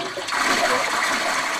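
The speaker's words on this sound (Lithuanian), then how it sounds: "Papuolė, nenuleisk vandenį." Toilet flush in the block-building video game JurassicCraft, a single short rushing gurgle of draining water, close and fairly loud with no talk over it.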